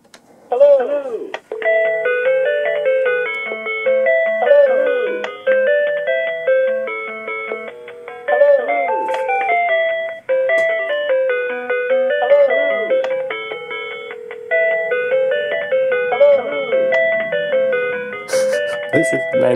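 A Cisco desk IP phone on an Asterisk system rings with a repeating electronic melody, loud and steady, the tune cycling several times with brief gaps between phrases.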